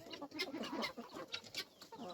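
Chickens clucking in a busy, overlapping chorus of short, chattering calls, fairly close and at moderate volume.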